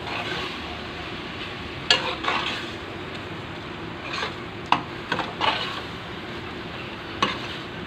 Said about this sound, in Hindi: बस इसको अच्छी तरह भूनेंगे, मिक्स करेंगे